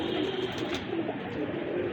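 A pigeon coos softly, low murmuring calls close by against a steady background hum, with no voices.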